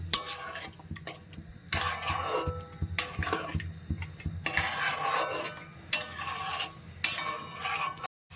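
Chicken is stirred in a cooking pot with lemon juice and spiced water, heard as repeated wet scraping strokes and utensil clatter over a low simmering sizzle, each stir coming in bursts a second or so apart.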